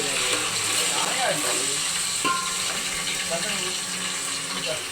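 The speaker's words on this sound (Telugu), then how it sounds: "ఆయిల్ బాగా ఫ్రై అయిన తర్వాత అందులో అల్లం వెల్లుల్లి పేస్ట్ అనేది అయితే వేసుకోవాలి" Ginger garlic paste frying in hot oil for a chicken curry, giving a steady, close sizzle with brief stirring scrapes, under faint background voices.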